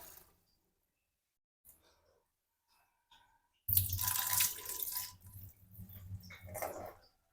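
Rice being washed under a running kitchen tap: after a few faint knocks, a steady splashing stream of water starts and continues, with sloshing and dripping, close and fairly loud.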